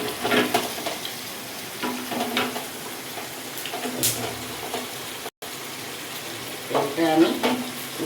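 Fenugreek seeds sizzle in hot oil for a Bengali-style fish tok, an uneven crackling fry with stirring scrapes and bursts, briefly cutting out before resuming louder.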